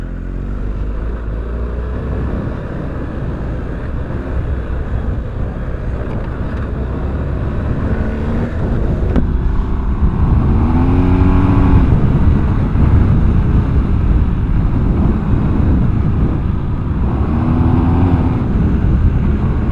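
A BMW R1250GS motorcycle being ridden, with a steady engine drone that swells as it speeds up and shifts, heavily buffeted by loud wind noise throughout.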